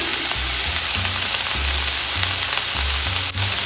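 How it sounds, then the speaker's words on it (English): Carrots and celery frying in a pan with a steady sizzle, broken by repeated scraping and stirring strokes, close and fairly loud with no talk. "we are going to go ahead and let this cook down for about 5 minutes, and we're going to stir it just so we don't get anything burnt"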